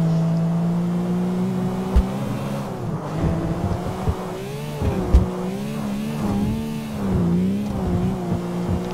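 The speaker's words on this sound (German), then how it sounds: "dann werde ich euch jetzt einfach mal präsentieren, wie schnell die Karre fährt" A Lamborghini in the video game GTA IV accelerates hard toward top speed, its engine droning loudly and steadily with pitch sweeps and dips as it shifts, plus a couple of sharp knocks; no talk.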